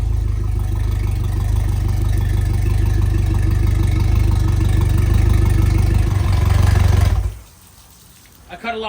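A Mercury 115 four-stroke outboard boat motor runs on flush muffs with a steady, loud idle drone for about seven seconds, then cuts off abruptly, leaving quiet with a small knock at the end.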